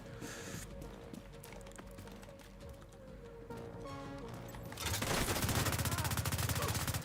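Burst gunfire from a weapon in The Division 2, a dense run of rapid, loud shots that swells near the end over a busy background of game sound.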